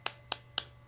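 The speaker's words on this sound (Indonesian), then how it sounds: "kita lakukan tepuk tangan Islami, yaitu tepuk Al-Fatihah" Islamic rhythmic hand clapping, the tepuk Al-Fatihah routine, in a primary school religion class: three quick, evenly spaced claps, faint and clean, over a low background hum.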